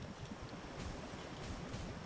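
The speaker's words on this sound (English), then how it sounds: "Because I won't stand this water noise 24/7" Water noise in the video game Palworld: a faint, steady washing and sloshing wash of surf-like sound with no clear breaks.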